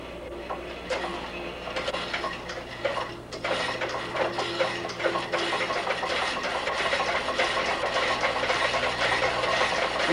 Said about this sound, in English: Now I'm going to open the throttle and allow the gas to flow through my prime movers.